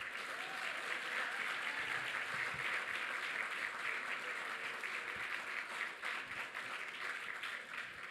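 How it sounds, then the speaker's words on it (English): Sustained applause from an audience at an employee-of-the-year awards event, a dense even wash of many hands clapping that stays steady throughout. "give a round of applause"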